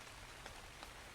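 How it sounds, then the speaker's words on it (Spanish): Steady, dense rain falling, a soft continuous hiss with occasional slightly louder drops, faint and alone. "el sonido de la lluvia fue el único lenguaje que habló la Tierra"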